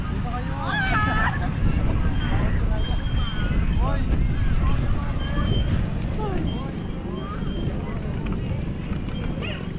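Steady wind buffets the microphone with a low rumble while people chatter in the background.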